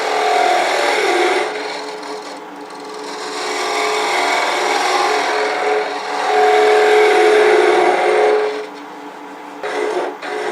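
A detail gouge cuts wood on a spinning lathe, giving a loud, steady scraping hiss that swells and eases over several passes, with no talk.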